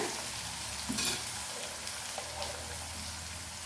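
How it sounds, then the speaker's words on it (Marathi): Onions and crushed masala paste frying gently on a low flame for a shevla bhaji, a soft continuous sizzle with occasional stirring scrapes, moderately close and steady. "क्रश मी ऍड केला आहे ह्या कांद्यासोबतच आपल्याला व्यवस्थित लो फ्लेमवर शिजवून घ्यायचं आहे"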